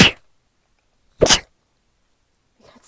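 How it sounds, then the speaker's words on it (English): A woman sneezes twice, each one short and close, about a second apart, with a faint third breath or sneeze starting at the end in otherwise quiet surroundings. "got sneezing ASMR."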